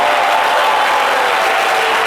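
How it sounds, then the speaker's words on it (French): An audience applauds loudly and steadily for a deceased artist during a French-language broadcast, a dense continuous wash of clapping with no break. "On applaudit très très fort"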